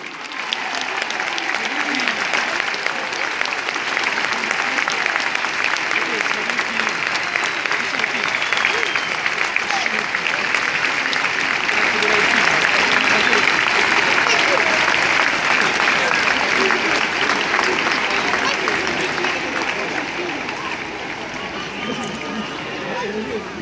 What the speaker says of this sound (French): On applaudit les enfants de Lubino